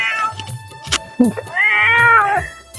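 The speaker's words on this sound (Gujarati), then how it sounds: "પાડેલી મીંદડી છે" A cat meows loudly and drawn out, close by, with a shorter cry before it and quiet background noise.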